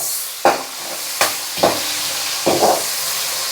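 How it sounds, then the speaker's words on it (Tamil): Four bursts of sharp sizzling as green plantain pieces drop into hot oil, each crackle fading into a steady low hiss between them. "வாழைக்காய் அந்த எண்ணெய்க்கு போட்ட கையோட வாழைக்கு அந்த சவுண்டு பெருசாக கேட்குது"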